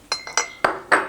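A glass lid clinks down onto a glass dish holding marinated goat chops and new potatoes, with five sharp, close clinks in quick succession as it settles.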